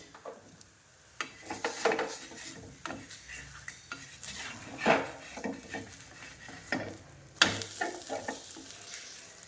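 Spatula scraping and loosening lauki dhapate, bottle gourd flatbreads, from the side of a hot pan, with repeated close scrapes and taps over a soft frying crackle and no talking.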